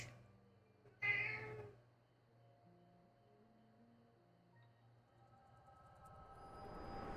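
A cat lets out a single loud meow near the start, close to the mic, then quiets while soft game music and low tones carry on in a room.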